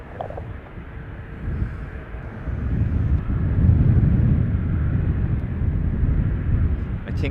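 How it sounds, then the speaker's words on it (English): A Swiss Airbus A321neo arriving at Dublin Airport gives a low, rumbling jet roar that swells steadily and holds near, with faint wind noise over the microphone. "I think that is the Swiss 321 Neo inbound"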